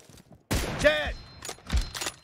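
Sniper rifle shots from an M24 in a team deathmatch shooter game: a sharp loud crack with a ringing tail, followed by a second, softer report a moment later, with game voice callouts mixed in.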